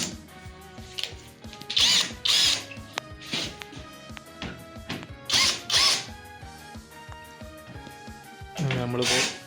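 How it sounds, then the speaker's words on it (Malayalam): A power drill drives screws into the wooden frame of a boat under construction, whirring in several short, loud bursts separated by pauses, with people talking in the background. "Now we're fixing the wood with the screws."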